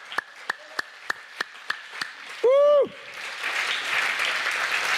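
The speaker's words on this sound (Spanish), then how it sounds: "Dele palmas al Señor." Church congregation at a Spanish-language sermon begins applauding after a few sharp single claps and a loud sung or shouted note, the clapping swelling into a dense, sustained wash.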